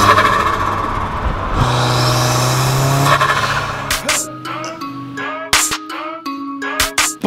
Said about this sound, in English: It opens up the area when the turbo flutters.